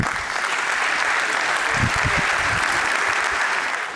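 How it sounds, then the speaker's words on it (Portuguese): An audience at a panel discussion on the car market gives steady, dense applause that carries evenly throughout, loud and close, with no speech over it. "Uma salva de palmas, por favor."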